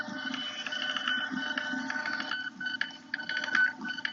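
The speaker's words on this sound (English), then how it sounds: "So as you can see, the labels come out." A desktop thermal label printer runs continuously, a busy mechanical whir with rapid ticking and stuttering feed pulses, close and moderately loud with no voices.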